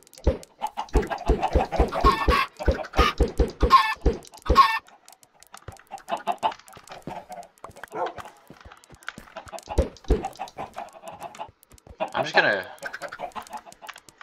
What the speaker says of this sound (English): So many friggin' chickens.